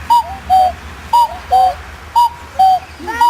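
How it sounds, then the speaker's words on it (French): A common cuckoo calls its two-note "cuck-oo" repeatedly, about three pairs in a steady rhythm, clear and fairly close over quiet background hum. "Voilà, le coucou."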